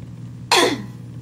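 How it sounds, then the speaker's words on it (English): A single sharp, loud cough bursts out and fades within a fraction of a second against a quiet indoor background with a low hum. "I have a really bad cough."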